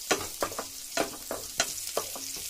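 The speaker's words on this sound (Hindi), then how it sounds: "फिर हमें डालना है लहसुन की कलियां, इसको लाइट ही भूनना है" Garlic cloves frying lightly in hot oil in a pan for pizza sauce, a soft sizzle broken by repeated scrapes and stirs of a spoon at a steady rhythm, close and fairly quiet.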